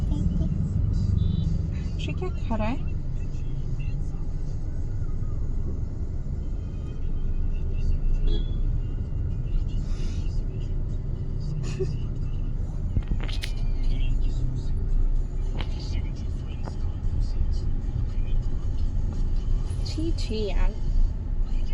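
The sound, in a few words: road traffic heard from inside a driving car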